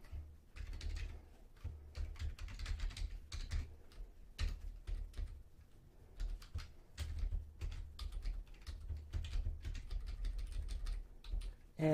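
Quiet, uneven keystrokes tap on a computer keyboard while entering items into accounting software, close up with short pauses between bursts.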